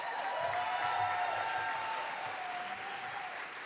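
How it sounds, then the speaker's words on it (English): An audience at a banquet applauds school board candidates with steady, continuous clapping that stays even throughout, heard from across a large room. "Let's give them a round of applause."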